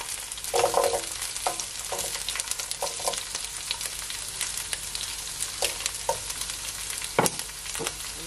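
Ginger and sweet pepper sizzle in a hot pan, a continuous frying crackle broken by several scraping stir strokes and light clacks of a utensil, close and clear with no talking.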